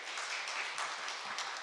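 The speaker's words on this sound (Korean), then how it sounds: "여러분 큰 박수로 보내주세요." An audience at a lifelong learning city conference in Korea applauds as a professor is welcomed to the stage, a brief, even spatter of many hands clapping at moderate volume without any talking.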